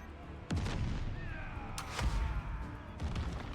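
Heavy cannon fire aboard a pirate ship in the Corsair Cove game: several booming shots land about a second apart, each a sharp blast followed by a rumbling tail, with a faint whistle between them.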